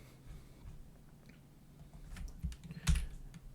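Soft, quiet keystrokes on a computer keyboard tap along intermittently, picking up into a few firmer clacks near the end, heard close against a low background hum.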